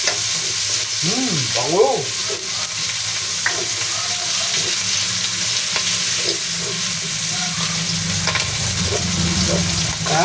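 Onion, garlic and tomato frying in a pan with a continuous loud sizzle and occasional stirring scrapes, a voice briefly speaking over the cooking noise.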